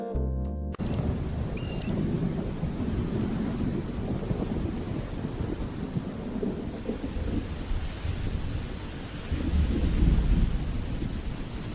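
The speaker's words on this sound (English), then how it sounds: "A storm rolls in." A thunderstorm rolls in over a forest, with continuous rumbling thunder and heavy rain noise building steadily, then a deeper swell of thunder near the end, loud and close.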